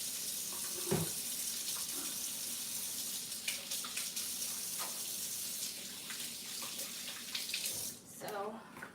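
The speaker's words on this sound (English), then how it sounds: "Wash my hands." Tap water runs steadily from a kitchen faucet while hands are washed, a constant close hiss with small splashes and clinks throughout, and a voice talks faintly underneath.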